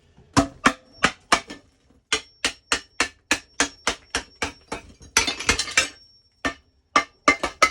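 An old porcelain toilet being broken apart, giving a steady run of sharp, loud hammer-like cracks at close range, with a brief burst of crunching, shattering fragments midway before the strikes resume.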